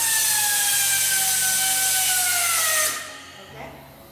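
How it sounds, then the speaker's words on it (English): A ZONESUN pneumatic friction welding baler strapping machine tensioning a strap, a loud steady air-driven whine with a falling pitch that cuts off sharply, then a brief hiss. "And press the tensioner."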